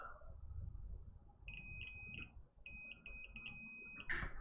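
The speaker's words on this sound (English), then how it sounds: "Meter in continuity mode, let's just check." A multimeter set to continuity mode sounds a series of sharp electronic beeps, some short and one held longer, over low desk handling noise near the microphone, with no speech.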